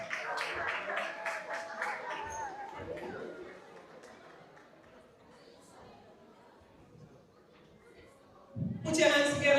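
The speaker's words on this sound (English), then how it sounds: "Big round of applause." An audience at a National STEM Fair award ceremony bursts into loud applause at the very end, after a stretch of a speaker's voice over faint crowd murmur.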